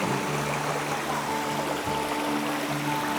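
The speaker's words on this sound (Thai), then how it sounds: "นี่เป็นลำธารนะ" Steady flowing water from a small stream at Mae Kampong, Na Thawi, Thailand, an even rushing trickle close by with no voices.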